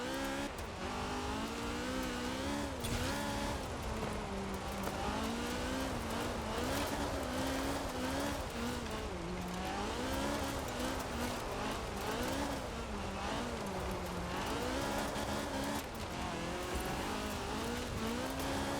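New Ford car driven in the video game Forza Horizon 4, a constant loud engine drone that rises and falls through gear changes over nearly twenty seconds, with occasional tire noise and no voices.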